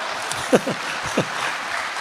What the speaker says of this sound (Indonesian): Boleh tepuk tangan, santai aja, Pak.